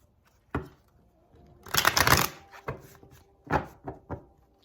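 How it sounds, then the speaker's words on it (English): Quick flutter of tarot cards being riffled and shuffled, with a few sharp taps and knocks of the deck before and after, close by. "let's give it a quick shuffle."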